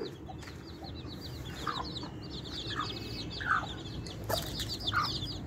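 Several hens clucking in short bursts, close by, over a low steady background hum.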